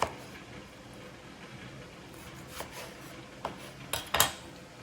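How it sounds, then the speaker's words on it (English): A few sharp knife knocks on a cutting board near the end as vegetables are roughly chopped for a vegan stew, scattered and close, after a quiet stretch of faint background noise. "we're gonna go ahead and start just roughly chopping them"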